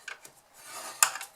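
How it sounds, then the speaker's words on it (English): Cardstock is scored with a bone folder on a scoring board in short, close rubbing strokes and a sharp scrape near the end, with no voice. "you're going to score at 1 inch on all 4 sides"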